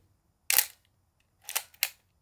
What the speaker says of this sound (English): the sound of a shutter. Please hear this.